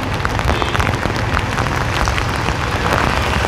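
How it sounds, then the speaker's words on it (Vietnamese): Heavy rain pours at Ben Thanh market in Saigon's District 1, a loud, dense, constant hiss and patter of drops on nearby surfaces with no pauses. "hôm nay mình đi mưa ở chợ Bến Thành"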